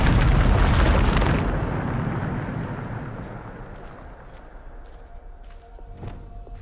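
A Bombarda explosion spell from Hogwarts Legacy bursts loud and close, a broad booming blast that rolls off into a long rumbling decay, with a faint thud near the end.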